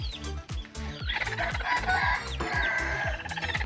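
A chicken clucks repeatedly in short, close bursts, with a loud drawn-out crow-like call in the middle.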